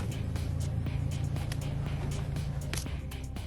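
A civilian car used by troops in a war zone drives on with a steady low engine rumble, interior and close, with clicks and rattles over it and some voices in the cab.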